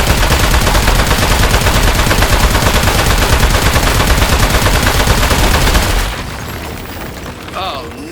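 Rapid, loud gunfire in a boss fight in the video game Aperture Desk Job, a dense continuous barrage lasting several seconds before cutting off into quieter game sounds.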